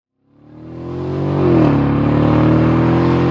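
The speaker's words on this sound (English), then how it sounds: "this twin turbo V8 starts singing real loud" A 2015 Mercedes S550 Coupe's twin-turbo V8 revs up in sport mode, rising quickly from silence into a loud, sustained, smooth engine roar that holds steady at high revs, close and alone.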